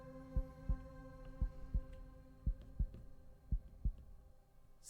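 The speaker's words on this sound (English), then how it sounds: "Can you hear her heart beating?" Slow, steady heartbeat in the horror game Devil's Hideout, eight dull thumps pulsing about every third of a second to half second over a low droning hum, with no talking.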